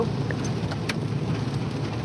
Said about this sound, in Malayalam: ഒടുക്കത്തെ മഴയാണ്